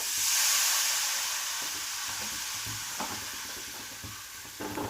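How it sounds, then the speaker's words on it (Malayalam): Vinegar is poured into roasted chili powder in a hot pan. A loud hiss surges at once and slowly fades into a steady sizzle, with occasional scraping stirs. "നമുക്ക് കുറച്ച് വിനാഗിരി ഒഴിച്ചു കൊടുക്കാം"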